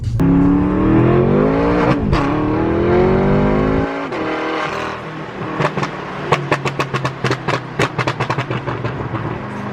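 A tuned 2014 BMW M5 Competition S63TU engine with BootMod3 revs hard and climbs in pitch, drops off, then a rapid series of sharp pops and crackles from the exhaust follows, loud and close.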